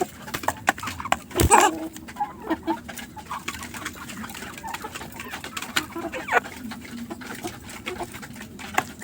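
Kuroiler chickens cluck and call in a poultry shed, with scattered short clucks and faint chirps over a quiet background, plus a sharp louder rustle or flap early on; no one speaks.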